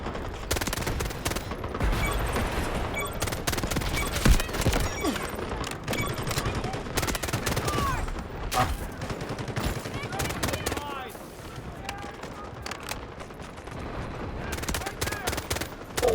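Dense, rapid bursts of video game gunfire crackle continuously through the clip, with overlapping shots and occasional louder reports, under steady background activity.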